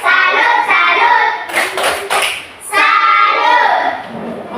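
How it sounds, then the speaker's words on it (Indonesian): A class of children performs the rhythmic 'tepuk salut' clapping chant, loud, close hand claps in a patterned beat with a short break midway before the clapping resumes strongly. "Maka mari kita berikan tepuk salut untuk kelompok kita masing-masing."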